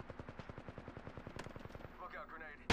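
Rapid automatic gunfire in the Apex Legends video game, a steady run of loud evenly spaced shots that stops partway, followed by lighter game effects and a sudden loud burst at the end.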